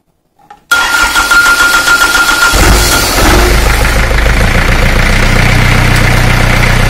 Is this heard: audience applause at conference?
no